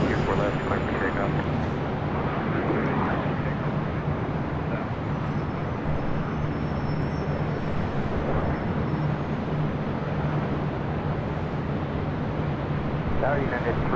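A Delta Super airliner taking off from runway 24 left at LAX produces a continuous loud, broad engine roar with a steady low drone throughout, alongside ongoing radio talk.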